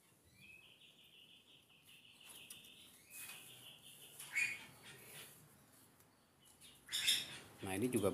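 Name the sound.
birds chirping in an aviary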